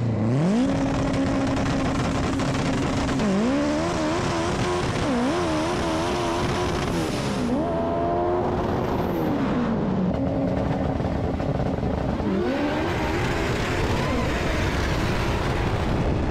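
A race car engine revs hard on a played-back race video, its pitch climbing, dropping at each gear change and climbing again in repeated loud sweeps, with a brief lull between runs.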